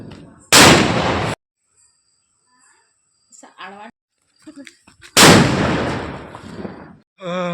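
Two loud, sharp firecracker blasts set off outdoors for Diwali, spaced several seconds apart, each with a long crackling tail, separated by near silence and a few faint small pops.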